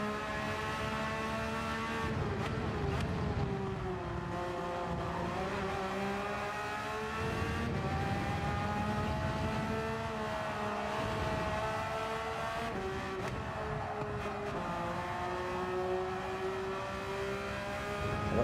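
Race cars in the Gran Turismo 7 video game during a daily online race, with a loud, steady engine whine that rises and falls through gear changes and throttle for the whole stretch, over a constant low rumble.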